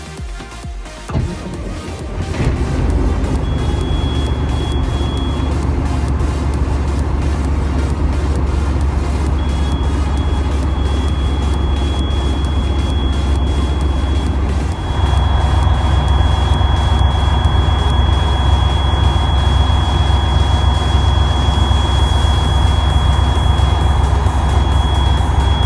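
A 2000 Freightliner Century truck engine starting and running, a loud, steady low diesel rumble that grows louder partway through as the idle rises, with a faint high whine throughout and no talking.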